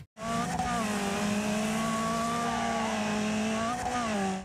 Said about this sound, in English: to a high-revving inline 4,